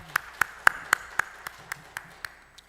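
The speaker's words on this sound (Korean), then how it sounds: "우리 하나님께 영광의 박수를 돌려드리겠습니다." Slow, evenly spaced claps ring out about ten times in a church during a Sunday afternoon worship service, sharp and fairly close, tapering off in loudness near the end.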